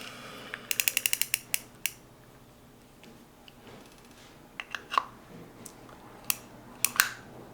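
A burst of rapid mechanical ratcheting clicks as a rotating device is fitted onto an old Shakespeare 1810 fishing reel, then scattered sharper clicks and ticks at irregular intervals, fairly quiet with no talking.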